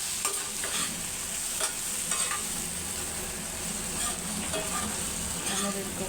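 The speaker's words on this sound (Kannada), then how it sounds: "ಸ್ವಲ್ಪ ಮೆಂತ್ಯ. ಚೆನ್ನಾಗಿ ಮಿಕ್ಸ್ ಮಾಡ್ತೀವಿ." A spoon stirs a spice mixture with fenugreek in a hot pan for gongura veg biryani, giving steady close scraping and light sizzling with repeated stirring strokes and no talk.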